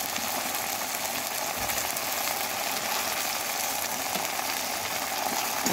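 Salt and turmeric powder sizzling in a hot pan, a steady broadband frying hiss with faint scraping of stirring running throughout at constant loudness, no voices.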